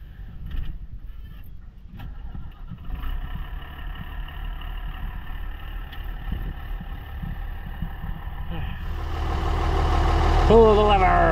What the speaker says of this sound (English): So let's hop on the tractor, start it up